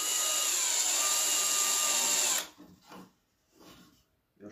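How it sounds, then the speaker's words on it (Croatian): Power drill driving a screw for a DIY shelf project, a loud steady whine lasting a little over two seconds, then stopping and followed by a few faint, short bumps. "Evo, uzeli smo bit. Sada ćemo vijak otegnuti."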